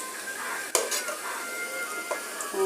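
Fritters of fourteen mixed leafy greens frying in a pan, a steady broadband sizzle with a few sharp utensil clinks and scrapes against the pan, close and moderately loud, no voices.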